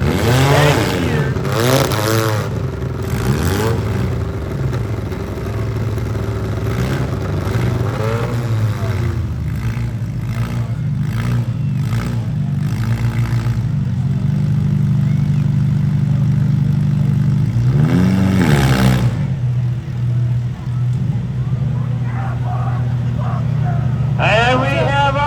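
Compact cars in a demolition derby heat at the Northeast Nationals, including a station wagon, revving and grinding as they bounce off the perimeter, engines rising and falling under continuous announcer talk.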